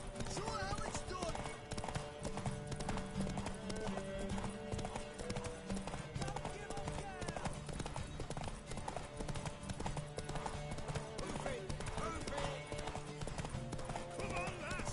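Horse hooves clip-clop in a PS4 video game, steady trotting beats under layered game music and effects, with an occasional whinny, dense and continuous throughout.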